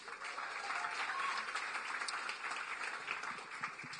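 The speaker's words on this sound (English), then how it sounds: "Can we clap it up for that?" Applause from a demo-day audience at a startup accelerator, a dense, steady wash of clapping lasting a few seconds, fairly quiet and even, with no talk over it.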